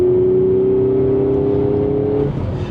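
A manual 2016 Audi S5 with a Stage 3 clutch pulls in second gear at about half throttle near 4,500 rpm. The engine drone is loud and close and rises steadily in pitch, then eases off near the end, with no talk.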